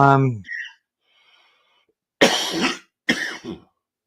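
Two short, harsh coughs in close succession, loud and close, following a brief voiced sound and a quiet pause.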